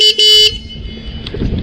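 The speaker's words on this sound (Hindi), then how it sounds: "ये हॉर्न है।" The horn of an Atumobile Atum 1.0 electric bike gives two short, loud, bright toots in quick succession, close by, followed by brief low background noise.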